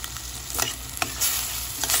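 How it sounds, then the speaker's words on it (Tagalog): Mushrooms sizzle loudly in a pan after a splash of water goes in, with a steady hiss, a few scraping stirs and short taps close by. "nilagyan ko ng konting water"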